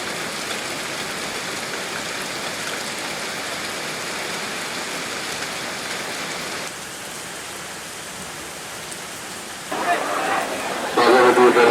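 Steady rain pours during a theyyam festival in Kerala, a dense, even hiss that dips briefly and then swells into louder, nearer splashing toward the end.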